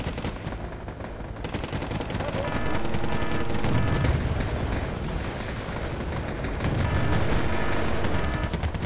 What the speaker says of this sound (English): Oh, an intense firefight's broken out.